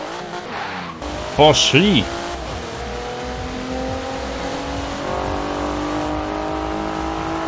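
Porsche Macan in the video game Forza Horizon 4, with a brief tire squeal followed by a steady engine drone that rises as the car accelerates, under a short spoken exclamation.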